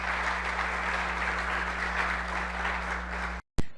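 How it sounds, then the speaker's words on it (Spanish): A church congregation applauds the Lord in a steady wash of clapping over a low electrical hum, cut off abruptly near the end by a short silence and a click. "Démosle un fuerte aplauso al Señor"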